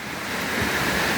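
Strong, muddy floodwater rushes past in a loud, continuous, close roar with no pauses.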